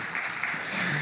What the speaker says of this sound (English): We can have an applause, maybe, even if he doesn't hear us.